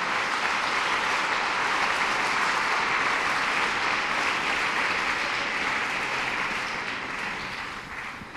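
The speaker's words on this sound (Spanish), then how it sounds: "Puede dar una ofrenda de palmas al Señor Todopoderoso." A church congregation applauds in praise to God during a sermon, a steady, full wash of clapping that holds strong and then tapers slightly at the end.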